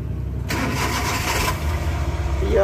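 A car engine cranks and catches after a fuel relay repair, a short starter whir breaking into a steady running idle that builds slightly toward the end, close and fairly loud.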